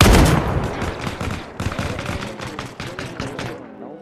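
Arma Reforger gunfire rattles out in loud, rapid overlapping bursts of shots, dense at first and thinning toward the end, with voices faintly underneath.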